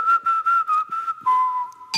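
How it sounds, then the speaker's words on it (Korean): A person whistles a short, bright tune in several quick phrases, then holds a lower steady note, close and clear with no talking. "휘파람 넣어주세요."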